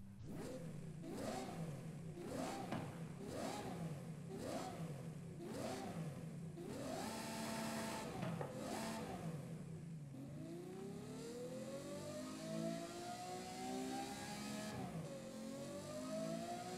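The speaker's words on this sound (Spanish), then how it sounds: "vamos a arrancar el coche a ver cómo suena esta maravilla de la ingeniería creada por Ferrari" Ferrari FXX K in Forza Horizon 5, its engine revved repeatedly in quick sharp blips, then held in two longer pulls before one long rising rev climbs and drops back, loud and close with no talk.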